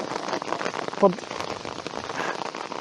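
Steady rain falling on a riverbank during a fishing outing, a dense close patter on surfaces throughout, with a brief sharper knock about a second in; no speech heard.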